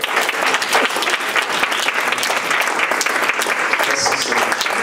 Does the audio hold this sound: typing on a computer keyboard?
no